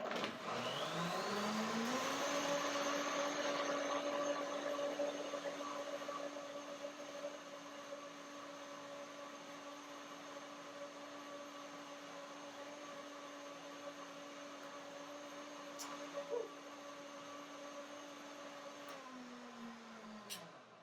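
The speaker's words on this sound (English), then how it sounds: "One more blender dance." A blender blending banana nut milk runs with a steady motorized whir, loud at the start and then settling to a constant hum before winding down at the end; no voices.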